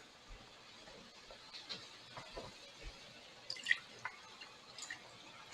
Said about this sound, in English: I'm going to take a little water and put it in here.